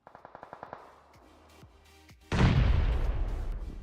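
Grenade blasts in a PUBG Mobile esports match: a quick string of sharp gunfire pops, a lull, then a sudden loud boom that rolls into a dense, sustained rumble.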